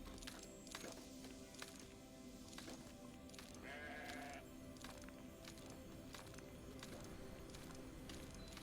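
A sheep bleats in a video game, one clear synthetic bleat in the middle of a steady background of game noise and scattered clicks, moderately faint.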